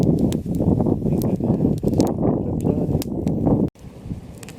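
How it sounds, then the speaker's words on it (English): Strong wind gusting at a campsite on a mountain lake, roaring and buffeting close to the microphone in rough, continuous surges, then dropping abruptly to a quieter rustle near the end. "This wind is messing up my fire big time. It's blowing all over the place."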